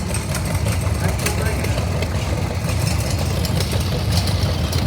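A 1956 John Deere 620 tractor runs steadily in a tractor parade at the Rough and Tumble Engineers Historical Association, its low engine drone continuous and moderately near, with outdoor crowd noise around it.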